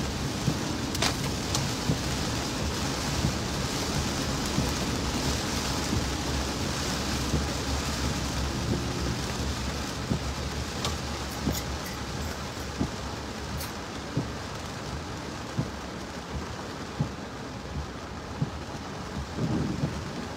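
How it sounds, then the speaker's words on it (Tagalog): Heavy rain pours steadily during a stormy day in the Philippines, and rolling thunder rumbles through it with scattered sharp drops and clicks nearby. "May kulog dito, ah."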